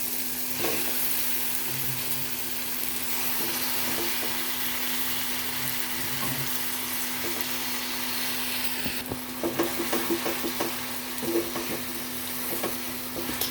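Red ponnanganni greens sautéing in a pan with softened tomatoes, a steady close sizzle and crackle with scraping stirs and occasional clinks of a ladle against the pan, busier toward the end.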